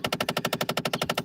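A faulty car actuator clicking rapidly, a steady train of sharp mechanical ticks about ten per second, close and fairly loud, with no voices.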